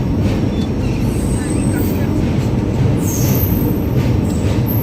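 A train on the Kolkata to Varanasi route rumbles along loudly and steadily from inside the carriage, with faint high wheel squeals and a sharper screech partway through.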